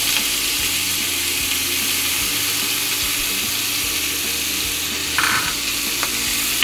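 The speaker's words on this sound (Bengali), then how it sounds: "পেঁয়াজগুলো ভালো করে বাদামি কালার ভেজে নেবেন।" Chopped onions with green chilies fry in hot oil for a Bangladeshi broiler chicken curry, giving a loud, steady, close sizzle throughout, with a brief stirring scrape near the end.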